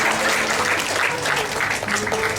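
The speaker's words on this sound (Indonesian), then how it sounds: "Terima kasih tepuk tangannya untuk kemuliaan Tuhan." Church congregation applauding at a GKI anniversary celebration in Papua, a dense, steady wash of clapping from many hands that fills the space without pause.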